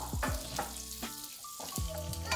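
Grated coconut stir-frying in a pan for a Kedah Malaysian dish, a steady close sizzle with scraping stirs of the spatula recurring every second or so, no voices.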